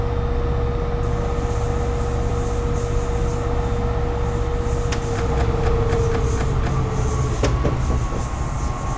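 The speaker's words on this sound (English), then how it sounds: "the train will just gently coast up towards 55 miles per hour until the next speed change" Passenger train in Train Simulator 2015 coasting with power idled on a slight downgrade, Oceanside to San Diego route: a steady rolling rumble with a sustained tone and rhythmic clicks of wheels over rail joints near the end.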